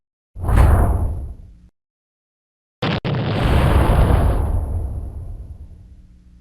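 A cartoon-style explosion blast effect, a swelling whoosh-boom that fades, then after a short silence a sharp crack and a second sustained roaring blast that slowly trails off, loud and alone with no voices.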